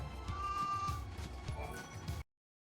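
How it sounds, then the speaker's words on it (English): Sheep bleat in the video game Final Fantasy XIII-2, a close, wavering cry lasting about two seconds before cutting off abruptly into silence. "I need to catch the sheep, get their wool."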